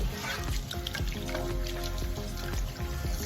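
Tap water runs and trickles over raw turkey meat being rinsed, a soft, continuous splashing with scattered drips, fairly quiet and alone.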